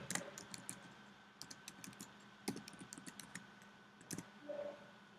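Keys tapped on a computer keyboard while entering details to log in and set up a blog, a quiet, irregular run of light clicks in short bursts with pauses, heard alone.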